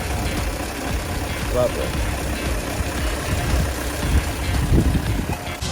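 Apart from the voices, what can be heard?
1965 Volvo PV544 engine idling smoothly after oil change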